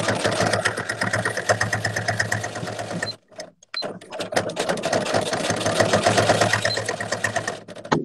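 A sewing machine stitches a leather pouch in fast, rhythmic bursts, pausing briefly midway before resuming its close, steady mechanical whirr.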